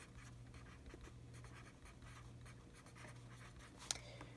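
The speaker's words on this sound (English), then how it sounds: "So I'll go ahead and write down the 2nd." A pen scratching out short strokes on paper in an expense tracker, quiet and close, in soft irregular bursts over a low steady hum, with one sharper tap near the end.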